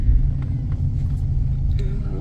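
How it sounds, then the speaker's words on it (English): Exhaust rumble from a 2009 Chevy Cobalt on the move forms a steady, moderate low drone throughout, mild rather than loud, with faint road noise on top. "the exhaust noise is there, but it's not overly obnoxious. It's just kind of a little rumbly"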